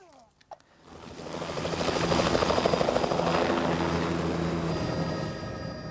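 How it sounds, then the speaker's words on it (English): A helicopter's rotor chop rises from quiet, building to a loud, rhythmic thudding whir that holds steady and then eases slightly. "Eventually the helicopters were able to take off"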